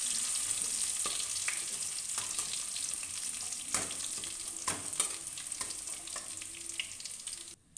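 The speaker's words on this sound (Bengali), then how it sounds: "হালকা একটু নাড়িয়ে নেব।" Garlic paste frying in a pan, a soft steady sizzle with occasional stirring scrapes, close and fairly quiet, with no talk.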